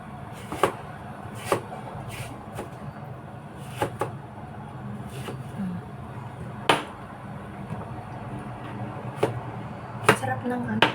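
A knife cuts through a mango in sharp, irregular taps against a board, about a dozen distinct strokes over low room noise.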